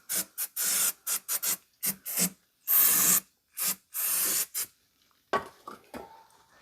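Cloth or paper rubbing across the oil pan mating surface of a 2009 Pontiac Vibe GT 2.4, a run of close, quick rasping wipes in short bursts with brief pauses, fading to softer scuffs at the end.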